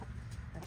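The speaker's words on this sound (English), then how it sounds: "The other one that's angry right now is Chicken Nugget." Chickens clucking in a backyard garden during green bean harvest cleanup, a brief burst of low, steady hen chatter close by with no talking.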